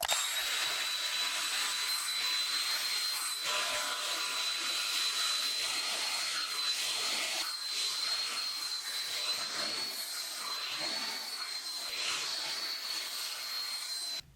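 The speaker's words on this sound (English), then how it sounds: "now I'm using my blow dryer with the comb attachment and I put it on high" A blow dryer with a comb attachment roars steadily on high, a loud constant whooshing with a whine, running continuously with no talking.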